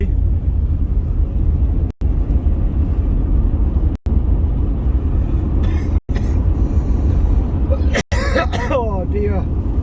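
A car drives along a farm road, its engine and tyre rumble steady and close throughout, with a few brief dips and a person speaking near the end.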